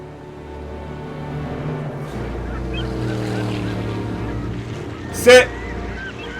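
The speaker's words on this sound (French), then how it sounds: "C'est le bateau qu'attendait Nedry." A boat engine in Jurassic Park: The Game drones low and steady amid water sounds, with a brief sharp clatter near the end.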